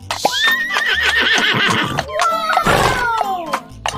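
A friendly farm horse gives a loud, close whinny, a wavering high neigh that falls in pitch over a few seconds, with a faint background voice around it.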